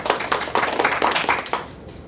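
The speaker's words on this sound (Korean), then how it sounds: "박수로 환영해 주시기 바라겠습니다" Applause in a county council chamber at a plenary session, welcoming officials. A few hands clap in a loose, uneven patter at close range, fading out after about a second and a half.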